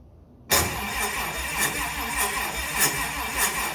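An airboat engine cranks and catches suddenly after a moment of near silence, then runs loud and close with a rough, uneven idle that surges a few times.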